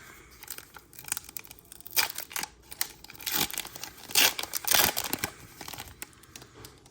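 A Pokémon Prismatic Evolutions booster pack is torn open with crinkly foil ripping and crunching in uneven bursts, loud and close, building toward a few stronger tears.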